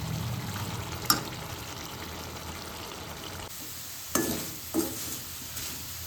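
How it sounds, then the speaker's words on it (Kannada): Potatoes frying in a pan give a steady soft sizzle, broken by a few sharp clinks and stirring scrapes near the end, close and moderately quiet with no voices. "ನಾನು ತುಂಬ ಅಂದರೆ ತುಂಬ ದಿನ ಆದಮೇಲೆ ಆಲೂಗಡ್ಡೆದ್ದು ಫ್ರೈ ಮಾಡ್ತಾ ಇದ್ದೀನಿ"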